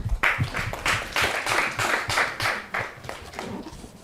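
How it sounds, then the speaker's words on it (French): An audience at a televised modelling showcase applauds, with rhythmic, evenly spaced bursts of clapping that sound close and lively and carry on steadily for several seconds. "On l'applaudit très très fort."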